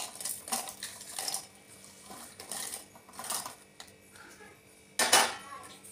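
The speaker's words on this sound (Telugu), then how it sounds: "ముందుగా వేయించుకున్న పల్లీలు, ఎండుమిరపకాయలు మిక్సీ జార్లో వేసుకోవాలండి" Roasted peanuts and dried red chillies rattle and clink as they are dropped into a mixer jar in several close bursts, ending with a louder clatter, no talk.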